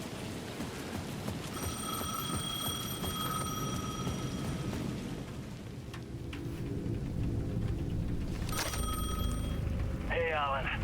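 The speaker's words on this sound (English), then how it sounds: "The payphone at the edge of the plaza was ringing again." A payphone rings in repeated electronic bursts in the video game Alan Wake 2, heard over steady rain and low rumbling ambience, with the rings pausing midway and returning later.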